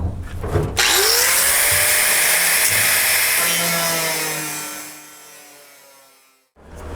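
A power tool cuts into the sheet-metal roof of a 1967-72 Chevy or GMC truck during rust repair, a loud high whine that rises as it bites, runs steadily, then fades out as the cut ends.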